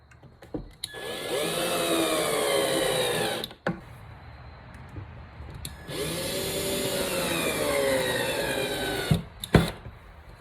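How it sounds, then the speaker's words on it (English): A cordless power drill drives screws into a 4-foot wooden entryway table, built with cheap basic tools. Two long whirring runs rise in pitch as each screw seats, with short knocks and handling clatter between them. "Now we're just going to throw some screws in it."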